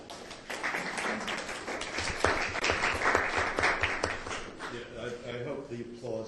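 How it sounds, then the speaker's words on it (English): Lecture-hall audience at an academic finance presentation gives a round of applause that swells, peaks in the middle and tapers off into a voice starting to speak near the end. "I hope the applause is for AG, not for me."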